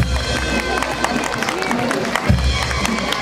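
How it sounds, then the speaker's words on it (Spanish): Crowd applause and scattered cheering from the audience at an outdoor anniversary festival in San Miguel de Cauri, Huánuco, steady and fairly loud with a low hum and rumble underneath, continuing after a school troupe's performance. "Los aplausos, damas y caballeros, público presente."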